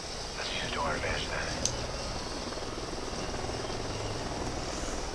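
Helicopters in Call of Duty: Ghosts produce a steady whirring rotor drone that holds throughout, with quiet voices murmuring over it and a sharp brief click partway through.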